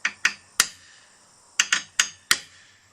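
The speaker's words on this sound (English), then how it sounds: "punch a small starting point for the drill" Hammer tapping a center punch on a storm door trim piece to mark a drill point: seven sharp metallic taps at uneven intervals, close and clear, with no talk.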